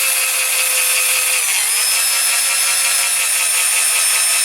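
A power drill bores out a rivet post on a die-cast Dinky Toys MG Midget No. 108, its high whining grind steady and loud throughout, the motor pitch dipping slightly partway as the bit bites into the metal.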